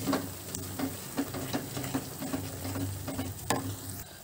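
Garam masala and coriander powder stirred into a matar paneer curry in a pan, a spoon scraping steadily with soft regular taps over a low sizzle, close and quiet.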